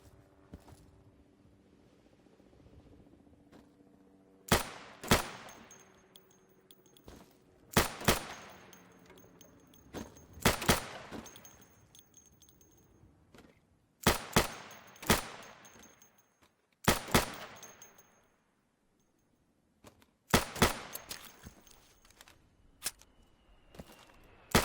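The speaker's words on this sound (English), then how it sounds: "So you can shoot accurately over 20 feet with your sidearm" Pistol sidearm shots at pop-up targets on a training range in the game Insurgency: sharp single and paired shots spaced a few seconds apart, loud and close, with a faint hum between them.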